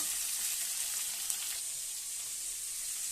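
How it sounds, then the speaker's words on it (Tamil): Bitter gourd and tomato sauté in a hot pan with a soft, steady hiss, a quiet continuous sizzle with a faint clink partway through. "கூட தக்காளி போட்டு ஒரு நிமிஷம் வதக்கிடுங்க."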